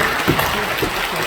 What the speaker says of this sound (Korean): 영광의 박수를 올리겠습니다.